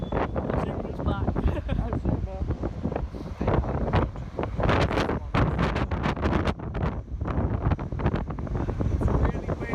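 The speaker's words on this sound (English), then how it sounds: "It's really windy." Strong wind buffeting a microphone outdoors at a London railway spot, loud continuous rumbling gusts throughout, with faint talk underneath.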